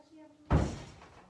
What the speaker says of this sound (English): We'll slide our door anchor over the door.